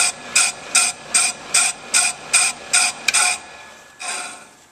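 A brake lathe takes a light scratch cut across a brake drum, producing a loud, evenly pulsing hiss that repeats about nine times in a steady rhythm before a softer, fading pass at the end.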